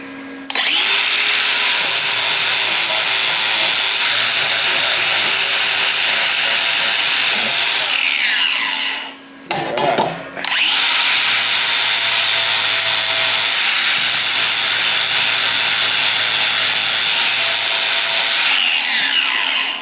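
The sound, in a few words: blending pad deburring metal motorcycle fairing mount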